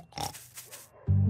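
A cartoon pig gives a couple of short nasal oinks, clear and close, ending in a louder low grunt.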